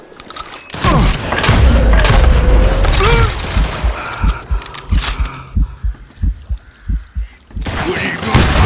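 Gunshots from the Wild West shooter Call of Juarez Gunslinger, a loud series of heavy booming thuds, dense at first and then spaced into a steady rhythm of separate shots, with game voices and music underneath.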